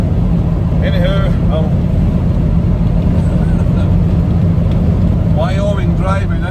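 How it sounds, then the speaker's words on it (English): An old yellow vehicle rumbles along through strong Wyoming wind, a steady low engine drone and broadband wind roar filling the cab, with someone speaking briefly over it near the start and end. "Wyoming driving in the wind"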